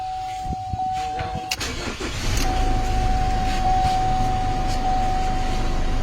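A car engine turns over after a brief crank and settles into a steady, close idle during steering column repair work at a roadside shop, with voices faintly nearby before it fires.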